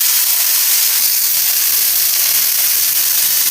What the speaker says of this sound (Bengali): এবার আলু দিয়ে ভালোভাবে নেড়ে নিচ্ছি।